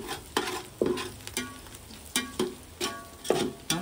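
Chicken masala paste sizzling as it roasts in an oiled pan, with a spoon scraping and stirring in a steady rhythm of about two strokes a second, close and moderately quiet over a soft frying hiss.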